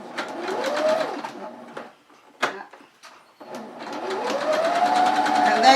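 A sewing machine runs in bursts on a zigzag stitch around a fabric circle for a rice pot bonnet, close and whirring, stopping briefly in the middle before starting up again.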